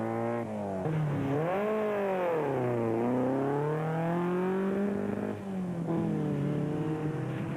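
A rally race vehicle in the 2004 Mondi Gilboa 250 pulls away from the start, its engine revving loudly and close, climbing and falling through several surges over a steady growl, with no voices.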